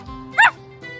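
A cartoon puppy gives a single short, high-pitched yelping bark, close and clear over a faint musical background.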